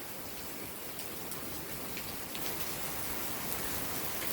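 Steady rain falls on surfaces outdoors during a mountain expedition, a constant dense hiss with scattered drop patter at an even level and no voices.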